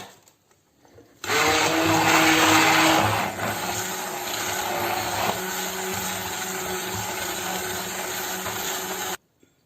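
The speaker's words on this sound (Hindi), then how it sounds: "हैंड ब्लेंडर से इसको मैं ब्लेंड कर लूंगी" A hand blender whirs through boiled potato and rice in a pot, starting abruptly, loud and steady for about eight seconds, then cutting off.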